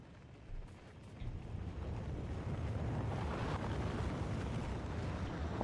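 Rockets launching in the video game Factorio make a broad, steady rumbling roar that swells after the first second and holds at an even level, with no talk.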